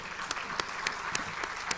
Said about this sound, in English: I think deserves a bigger applause